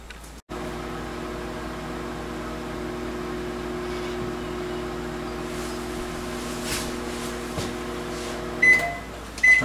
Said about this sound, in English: we'll put it in the microwave and heat it up